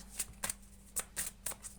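A deck of playing cards shuffled in short riffling bursts, about six quick crisp snaps spaced irregularly, close and fairly quiet over a low steady hum.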